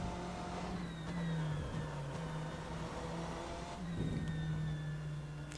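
Race car engine in the sim racing game rFactor 2, revving and shifting through gears with rising and falling pitch, a steady mid-loud drone with brief dips at the shifts, and no talking.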